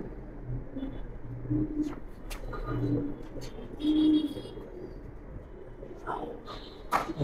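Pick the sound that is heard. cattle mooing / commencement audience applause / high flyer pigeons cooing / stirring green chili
high flyer pigeons cooing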